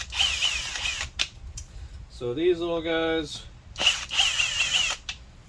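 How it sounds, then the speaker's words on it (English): A small cordless power drill briefly spins out screws from the air filter cover of a Honda Ruckus (Zoomer NPS50) scooter, giving a close, rising whir of about a second between stretches of nearby speech. "I'm just going to use my little drill real quick"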